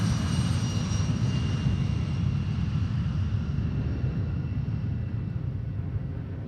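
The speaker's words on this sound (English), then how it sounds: "So that aircraft that's off to the right there, that's a departing flight out of Seattle" A private jet departing Boeing Field in Seattle gives a steady, broad engine roar that sounds fairly distant, holding level and then easing off slightly toward the end, with no voices.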